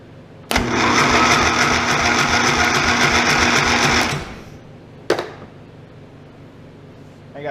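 An OMC Mustang 310 skid steer engine cranks over loudly and steadily for about three and a half seconds during a compression test, then stops, followed by a single short burst of cranking.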